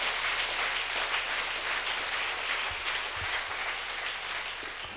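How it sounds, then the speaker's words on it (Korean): A church congregation applauding loudly, a dense, steady wash of many hands clapping together that fades slightly toward the end. "한번 박수를 세게 하는 거예요."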